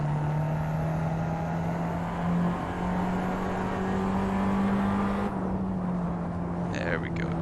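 Abarth 500 Esseesse street car engine in Assetto Corsa, a steady loud drone holding a constant pitch through a corner, with a speaker commentating over it and a brief shift in tone near the end.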